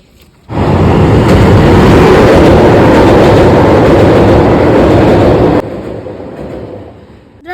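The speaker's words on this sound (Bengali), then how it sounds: "ঘুরতে ঘুরতে দেখতে পেলাম ট্রেন আসতে, তাই ট্রেন দেখতে যাচ্ছি।" A train passes close by near a bridge with a loud, sustained rumble and rattle of wagons. It rises suddenly, holds for several seconds, then drops to a fainter fading roar.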